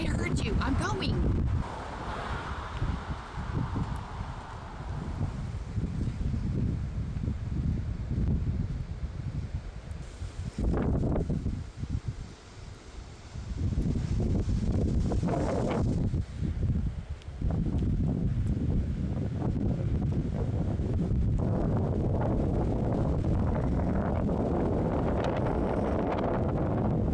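Strong coastal wind buffets the microphone in a loud, continuous roar that drops briefly midway before surging back, with a person talking over it at times.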